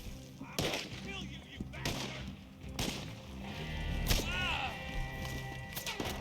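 Video-game gunfire sounds as several sharp, separate shots spaced a second or so apart, fairly faint and mixed with other game sounds.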